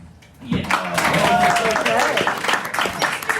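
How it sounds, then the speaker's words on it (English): Applause swells quickly from a live theater audience at a storytelling game show, with many hands clapping alongside cheers and excited voices at moderate, sustained loudness. "how about a round of applause for Mr. T?"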